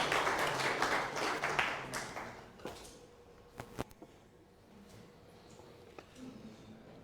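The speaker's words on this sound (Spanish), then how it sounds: "damos un fuerte aplauso para el doctor Marco Tulio Gutiérrez, nuestro próximo ponente" Audience applause for the next speaker at a training session on municipal and regional government regulations, a dense burst of clapping that fades away within about three seconds, leaving a quiet room with a few scattered taps.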